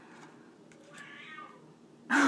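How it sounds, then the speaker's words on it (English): A cat gives a drawn-out meow at moderate distance, followed by a sudden loud burst of noise at the very end. "A cat."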